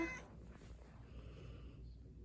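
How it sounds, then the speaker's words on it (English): A pet cat meows once at the start, fairly close, then the room goes quiet with only faint low background hum. "Enjoy the kitty cat"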